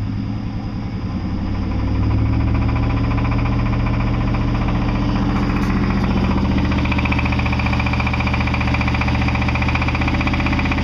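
A Chevy engine with a bad flexplate runs close by with a steady low rumble and a fast rhythmic knocking tapping through it, continuous and loud, with no voices.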